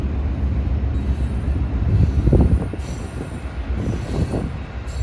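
A freight train rumbles past nearby at Dorval, Quebec, a steady heavy roar with wheel squeal and faint clacking swelling and fading over several seconds.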